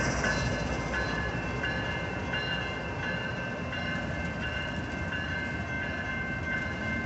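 An empty BNSF intermodal freight train led by locomotives 8211 and 6229 rolls past, a steady continuous rumble and rattle of cars, fairly faint and unbroken throughout.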